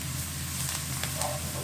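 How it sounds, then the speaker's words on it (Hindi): A tablespoon of freshly ground garlic paste sizzles as it fries in a pan for homemade pizza sauce, a steady, close hiss with light crackles running through the whole short stretch. "अब इसके अंदर हम 1 टेबलस्पून जो है फ्रेशली जो पिसा हुआ जो होता है ताज़ा गार्लिक पेस्ट यानी लहसुन का जो है वो डाल देंगे पेस्ट"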